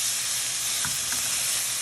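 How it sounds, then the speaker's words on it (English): Shrimp sauteing in a hot pan with pepper and paprika, a dense, loud, continuous sizzle and hiss up close with faint stirring movements underneath. "now I'm going to just give a quick saute to the shrimp"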